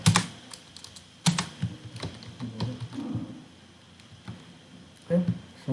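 Typing C source code on a computer keyboard, a few loud clusters of key clacks separated by quieter stretches of scattered tapping, close and alone with no talking.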